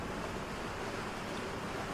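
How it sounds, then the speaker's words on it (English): Ocean waves and wind surround a sailing boat in open water near shallows, a steady, loud rushing wash of surf and wind noise with no pauses and no talk. "so we're open to the ocean winds, and this has increased the waves a little bit"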